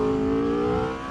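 Aprilia RSV4 RF superbike engine held in first gear, a steady loud mechanical drone with a fairly constant pitch and even loudness, close up and alone with no talk over it.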